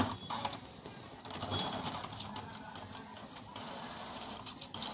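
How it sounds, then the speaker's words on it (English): An Epson L380 inkjet printer runs through a page with a continuous mechanical whir and rattling feed noise, moderately loud with no talking. "Okay, it has printed."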